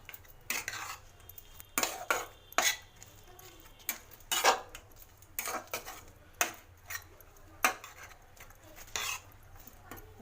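A spoon scrapes and clinks against a pan while cabbage rice with peas, onion, spring onion, tomato, coriander leaves and spices is stirred, giving about a dozen sharp, irregular metallic strokes close by over a steady low hum, with no talking.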